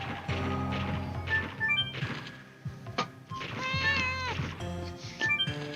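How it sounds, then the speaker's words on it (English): A cat yowls close to the microphone in long, wavering cries over game music, and a few thuds and knocks are heard along with them. "my cat is yelling into the mic"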